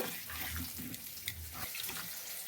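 Water poured from a vessel into a cooking pot in a home kitchen while making Kerala fish curry with kudampuli, a steady splashing pour running continuously and fairly faint.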